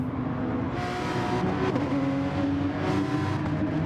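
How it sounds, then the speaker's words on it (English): Porsche Supercup race car engine in Gran Turismo Sport, a constant loud high-revving drone with slight pitch shifts as the car runs through a braking zone alongside another car, continuous and close with no talking. "Can Lee use that slipstream to pull up alongside Remy for that big braking zone?"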